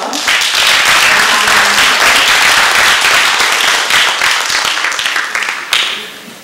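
An audience at a debate bursts into loud, sustained applause that slowly thins and fades toward the end, with a few scattered claps lingering.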